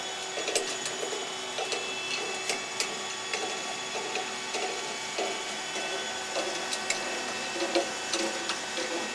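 A Sunnen SV-210 vertical honing machine running its cleanup cycle, a steady mechanical whir with a regular ticking, clicking rhythm and faint tonal hum, close and continuous with no talk.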